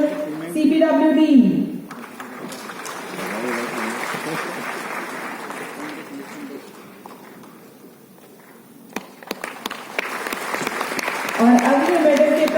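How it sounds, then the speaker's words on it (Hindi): An audience at a government department foundation-day ceremony bursts into sustained applause for a medal recipient, loud at first, then dipping and swelling again, with an announcer's voice heard over it. "जोरदार तालियों से स्वागत कीजिए श्री गजेंद्र सिंह"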